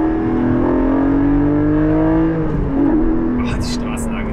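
A Porsche 718 Cayman GTS 4.0 engine drops its pitch through a downshift, with an automatic throttle blip adding a short rev flare. The sound is loud and close inside the cabin while someone talks over it.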